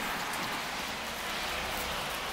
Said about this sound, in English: it's kind of foggy and rainy